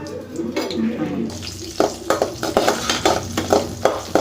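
Cashews frying in ghee for a sweet made from leftover rice, giving a steady crackling sizzle with rhythmic scraping and stirring strokes close by, and no talk over it.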